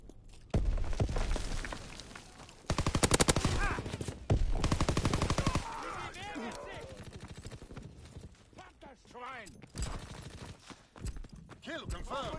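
Rapid gunfire bursts and single shots from a World War II shooter game crackle loudly in the opening seconds, then continue more sparsely under game voice callouts and effects.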